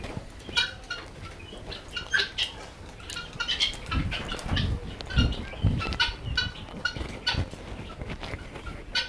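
Several turkeys gobble and call in bursts amid a flock of fowl on a poultry farm in Bakshiganj, Jamalpur, with a general farmyard clamor around them.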